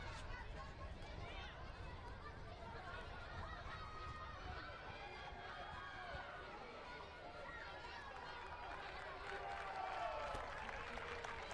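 Crowd at an Italy versus France under-18 rugby match in Vichy, central France, a steady babble of spectators with scattered claps and cheers throughout, fairly close and continuous with voices mixed in.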